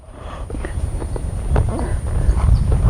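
A horse moves at a walk with steady, close hoof clip-clops on a working ranch while sorting mini zebu cattle, growing a little louder toward the end with some background rustle.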